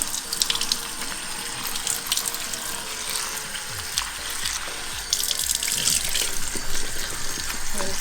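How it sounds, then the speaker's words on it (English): Strawberries are rinsed under a running kitchen tap, water gushing and splashing steadily into the sink with brief clinks and shifts as the fruit is handled. "Then you rinse the strawberries."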